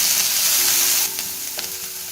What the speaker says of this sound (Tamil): நான் சின்ன வெங்காயம் வேக வச்சதுனால இதை அப்படியே வதக்கி போடுறேன்.